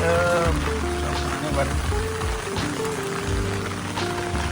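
Continuous rain patters and hisses throughout, a dense wash of drops with tonal hum and indistinct voices underneath.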